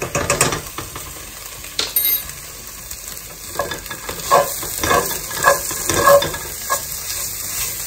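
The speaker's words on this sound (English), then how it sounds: "So you just wanna get this frying off." Food frying in a pan while a vegan meal is cooked: a steady sizzle runs throughout, broken by repeated stirring scrapes and light clinks of a utensil, close and fairly loud, with no talking.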